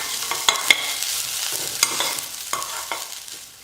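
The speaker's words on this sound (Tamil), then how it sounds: "தேங்காய் துருவல் சேர்த்து 1 நிமிஷம் வதக்கிட்டேன்." Grated coconut and onions sauté on low heat in a pan, with a soft steady sizzle and several sharp scraping clicks of stirring, close and without talk.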